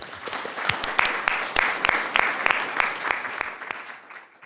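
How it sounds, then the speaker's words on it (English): Applause from an audience at a policy event on Medicare Advantage reform, a dense crowd of clapping that swells and then thins out over a few seconds, heard alone without talk. "Quick round of applause, and thanks everybody."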